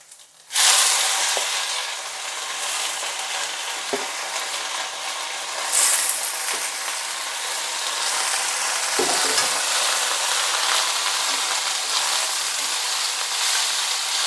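Washed mint and coriander leaves sauté in a pan for a mint coriander thuvayal, giving a steady close sizzle with occasional stirring scrapes and knocks.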